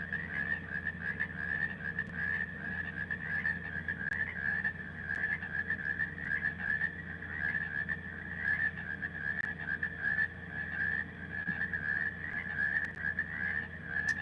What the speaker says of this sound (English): those frogs sound particularly nice to me tonight